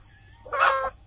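A single short squawk from a free-range village chicken on a farm raising kampung chickens for market, loud and close, standing alone with no voices.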